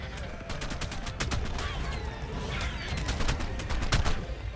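Rapid bursts of gunfire in ARK: Survival Evolved crackle in quick succession, a dense, busy volley of sharp shots layered over a constant rumbling background.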